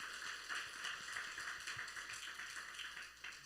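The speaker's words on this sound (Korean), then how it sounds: "자, 박수 한번 쳐주시죠." An audience at a combined middle, high school and young adult church retreat gathering applauds on request, a faint, steady patter of many hands clapping with no pauses.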